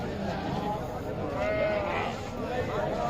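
Goats bleat at a busy livestock market ahead of Qurbani, repeated wavering calls close by over constant crowd noise and talk.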